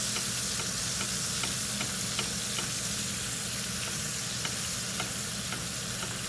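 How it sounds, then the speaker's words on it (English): Steak basting in its own rendered fat in a hot pan, a steady dense sizzle and crackle with faint rhythmic spooning ticks, close and continuous with no talking. "Time for basting."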